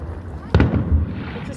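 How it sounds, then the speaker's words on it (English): A fireworks show over the water in Antioch, California: one sharp, loud burst with a rolling boom follows a low rumble, heard from fairly close. "These fireworks are legit"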